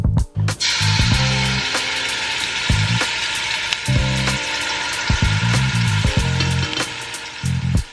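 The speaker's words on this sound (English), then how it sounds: "we are gonna let this epis fry up in the pot and let it cook and get a little bit browner" Haitian epis fries in hot olive oil in a pot as a steady, dense crackling sizzle throughout, with a few stirring knocks and scrapes breaking through now and then; close and fairly loud, with no voices.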